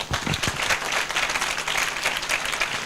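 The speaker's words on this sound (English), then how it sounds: "Give them a round of applause." A crowd claps at an anniversary celebration for a chimpanzee sanctuary on Ngamba Island, a full, lively round of applause with a few sharper nearby claps at the start, continuing unbroken throughout.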